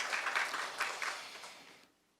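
Audience applause at a Korean special education society spring academic conference, a dense burst of many hands clapping that fades out over about two seconds into near silence.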